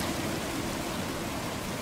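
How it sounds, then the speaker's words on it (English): A loud, close waterfall pours in a steady, unbroken rush of white noise, filling the whole moment evenly without any voices. "Sorry, waterfall's a little loud."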